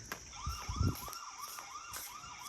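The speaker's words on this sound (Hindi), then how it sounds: "कैमरा जो है वो शोर डालना शुरू कर देगा।" A repeating electronic alarm with a wavering, siren-like pitch sweeps up and down steadily, fairly loud and close, with some low thumps underneath.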